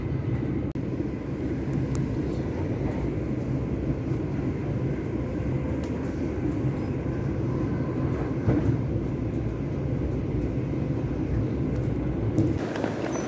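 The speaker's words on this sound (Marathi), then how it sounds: "अशा प्रकारे आपला अजून ट्रेनचा प्रवास सुरू आहे" Steady rumble of a passenger train travelling toward London Gatwick Airport, a continuous low rolling drone of wheels on track with faint clanks and no talk.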